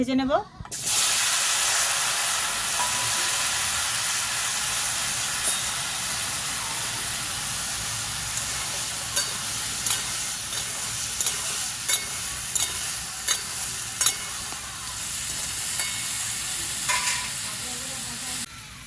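Potato and pumpkin with turmeric powder fry in mustard oil in a wok, giving a steady broad hiss that holds for the whole stretch after a sharp onset, with a few faint clicks and no clear talking.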